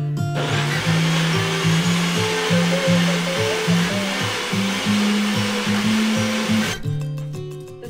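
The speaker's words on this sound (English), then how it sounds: "So when I blend it, I have to hold her because she gets so scared from the sound." A blender whirs loudly and steadily for about seven seconds as it blends a smoothie of mango, apple, kale and spinach, then stops abruptly near the end.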